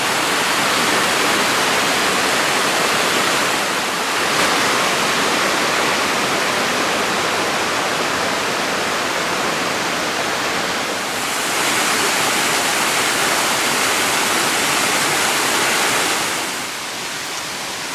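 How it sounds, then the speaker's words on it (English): Water from a creek rushing through an abandoned house in a West Virginia coal town, a loud, constant roar of flowing water, close up and unbroken, with brief dips in level. "The water's kind of flooding the floor."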